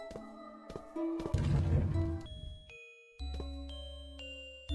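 Bell tones from the warding bell item in the horror game Misao (2024 HD remaster): a few clear chimes and tinkles, then a brighter ringing swell with crashing shimmer, followed by sustained pure tones and a low hum, fairly loud with no talk.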